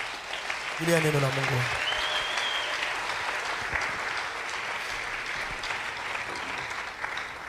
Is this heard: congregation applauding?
yes